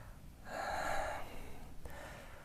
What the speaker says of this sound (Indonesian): saya juga merasa capek di sini ya, tuh napas saya berat